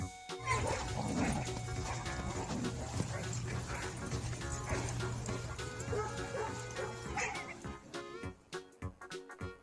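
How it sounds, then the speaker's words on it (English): A dog barking and yipping with a few whimpers, mixed under busy music and voices, the barks clearer near the end. "D for dog."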